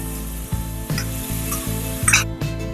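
Chopped onions stir-fried in a pan, with a steady sizzle and repeated scraping strokes of a spoon at a regular rhythm, close and clear with no talking.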